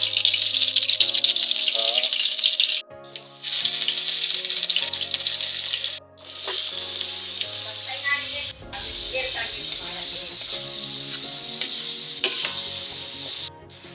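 Papaya sautéing in a little oil gives a steady, loud frying sizzle, with stirring and scraping noises on top. The sizzle drops out briefly twice.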